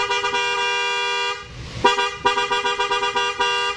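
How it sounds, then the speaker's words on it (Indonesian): Loud, steady blare of an aftermarket Denso horn wired through a 30-amp relay on a Yamaha Nmax scooter, one long sustained blast followed by a series of short rhythmic toots, close up with no talking. "Sekarang pakai relay dan pakai klakson Denso, luar biasa suaranya."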